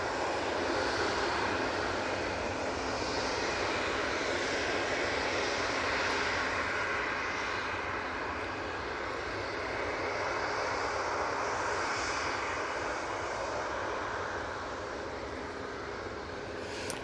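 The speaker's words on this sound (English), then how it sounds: "This is 737-800." A Boeing 737-800 from Belfast rolls out at Manchester Airport after touchdown, its engines a loud, continuous broadband roar with a faint high whine, steady and unbroken throughout.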